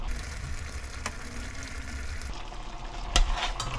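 Spicy chicken feet in gochujang sauce simmering in a pot, a steady soft bubbling and sizzling hiss that holds at a constant level, with a brief clatter of stirring near the end.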